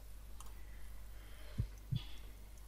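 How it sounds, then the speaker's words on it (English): Two low, muffled heartbeat thumps from the video game Sherlock Holmes: Crimes and Punishments sound close together over a faint, steady hum. "I need to concentrate and count the heartbeats."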